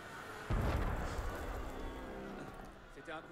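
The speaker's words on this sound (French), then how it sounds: "C'était un coup de canon." Cannon shot in the Assassin's Creed Unity video game: a sudden deep boom that rolls out into a long rumbling decay, with faint game noise and crowd sounds behind it.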